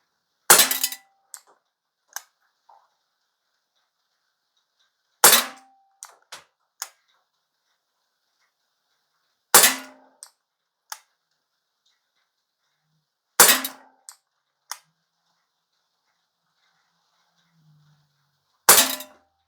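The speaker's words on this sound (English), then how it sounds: "I am gonna shoot in single action just because it is a single action pistol" A GAMO P-27 CO2 pistol fires BBs in single action, five sharp, loud cracks spaced several seconds apart, each followed by faint pings and clinks of the pellets striking targets, with quiet in between.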